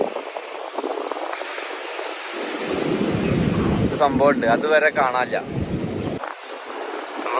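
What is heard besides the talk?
sea waves on the beach at Khor Fakkan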